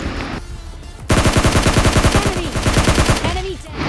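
Gunfire in the mobile shooter PUBG Mobile Lite, solo against a squad: after a short lull, a loud, rapid automatic burst rattles for about two seconds, followed by a quieter stretch of game noise.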